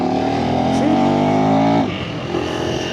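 A KTM 390 Adventure motorcycle pulls hard at full throttle, its engine drone climbing steadily and loud, then the note drops off as the revs fall away.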